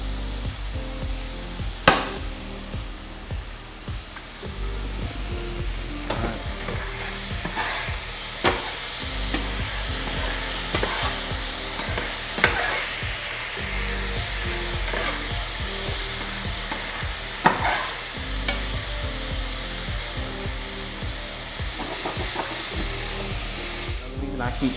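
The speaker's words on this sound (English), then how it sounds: "The reason I keep stirring it so the meat can cook evenly." Meat fries in a little oil, a loud, dense sizzle and crackle with repeated scraping and clacks as it is stirred around the pan, continuous throughout.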